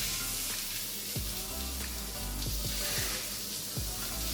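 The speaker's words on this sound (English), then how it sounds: "I'm just going to chuck them on the char grill just to give them a smoke" Burger buns sizzle on a hot char grill in a restaurant kitchen, a steady close crackling hiss with a few soft thuds and scrapes as they are set down.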